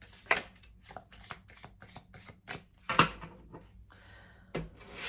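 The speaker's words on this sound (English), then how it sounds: "I'm actually shuffling very slowly, intentionally, because if I shuffle too fast, it actually is so easy to jump out" Small circular oracle cards being shuffled slowly by hand, a steady run of soft papery riffles and taps with a few sharper card snaps, close and alone.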